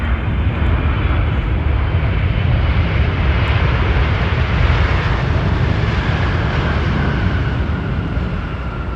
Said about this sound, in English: Let's hear his reverse thrust.